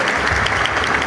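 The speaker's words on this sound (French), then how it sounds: "Applaudissez" A crowd applauds steadily and loudly at a patriotic flag-themed gathering, a dense continuous wash of clapping with a faint murmur of voices underneath.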